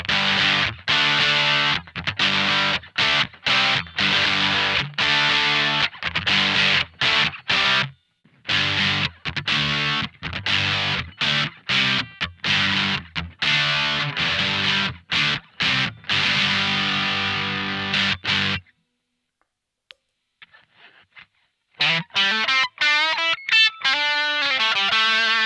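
Electric guitar played through a distortion pedal, a Proco Rat or Boss DS-1, loud chugging chords with choppy stops and a brief near-silent gap before ringing notes return.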